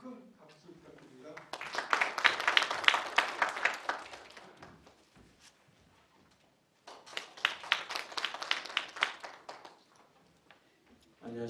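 An audience applauds a speaker at a smart construction conference in two bursts of dense clapping a few seconds each, separated by a quiet gap, with a voice heard briefly at the start.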